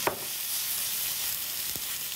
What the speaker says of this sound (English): What I'm going to do is actually now put the quinoa right in the pan